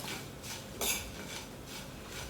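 Okra and tomato tossed with spice powders, quiet rhythmic scraping of a utensil against a pan with one brighter clink partway through, close but faint.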